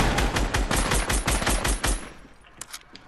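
Rapid gunfire from a Fortnite duos match, about a dozen sharp, loud shots in quick rhythmic succession for two seconds, then a few fainter scattered pops trailing off.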